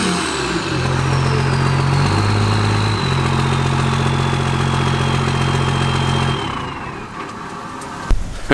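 A Duramax diesel pickup truck with a modified exhaust idles with a loud, deep, steady drone, its pitch stepping slightly up and down before fading, with a sharp knock near the end.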